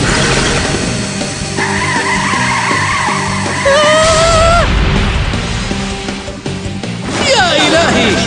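Race cars skid and squeal through a cartoon race, long rising tire screeches sliding in pitch over a dense roar of engines and crowd noise, with a sharp whining squeal bursting out near the end.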